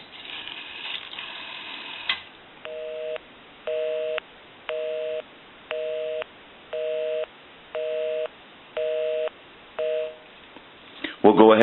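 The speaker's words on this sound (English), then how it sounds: "Give you some dial tone." A Stromberg Carlson 554 rotary wall telephone gives a steady dial tone for about two seconds, then a regular train of eight evenly spaced tone bursts, with a click at the end; no talking.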